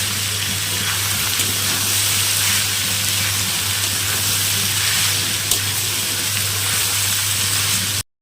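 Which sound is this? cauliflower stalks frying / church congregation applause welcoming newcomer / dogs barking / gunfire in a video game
cauliflower stalks frying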